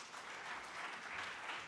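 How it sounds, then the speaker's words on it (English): An audience at a stock exchange listing ceremony in Rwanda claps steadily, a soft, distant-sounding wash of applause with no talk over it. "A big round of applause one more time for Ralph Mupita, our president and CEO."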